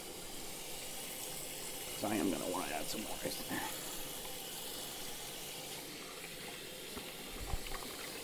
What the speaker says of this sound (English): wash my hands before I touch our ice cube tray